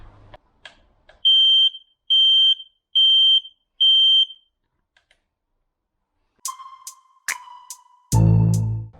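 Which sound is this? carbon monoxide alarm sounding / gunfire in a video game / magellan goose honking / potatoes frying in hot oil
carbon monoxide alarm sounding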